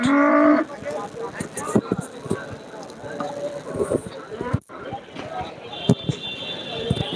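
A cow gives a loud moo up close, followed by busy crowd chatter and the clatter of a crowded cattle market at Deohata, Mirzapur, Tangail district, with people talking throughout.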